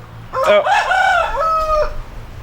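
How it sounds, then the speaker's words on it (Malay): A rooster crows a single loud, close cock-a-doodle-doo, rising and then drawn out and fading at the end, with no talking. "Ayam pun sekarang berkokok tidak pakai jadual lagi"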